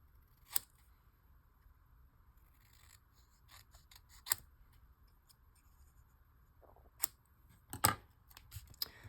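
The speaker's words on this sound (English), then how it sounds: "So let me cut around it." Scissors snip around a Candy Cottage gingerbread paper printable, close and quiet, in scattered crisp cuts with pauses between them and a quicker cluster of snips near the end.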